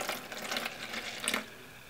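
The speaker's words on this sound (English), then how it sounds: "So we can go ahead and pour some of the developer" Developer solution for circuit board etching is poured into a bucket, giving a brief splashing, gurgling rush of liquid in bursts.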